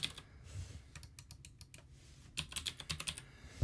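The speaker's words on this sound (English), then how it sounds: "I'm going to type Emacs." Typing on a computer keyboard in a Linux Mint desktop session, quick clusters of light key clicks with a pause between two bursts, close and fairly quiet.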